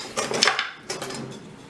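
A wooden spoon is picked up from among kitchen utensils, giving two short clattering bursts of wood and metal knocking together close by.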